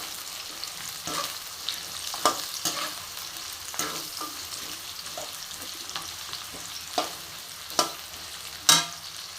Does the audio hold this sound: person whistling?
no